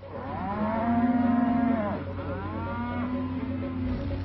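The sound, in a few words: beef cattle mooing in a feedlot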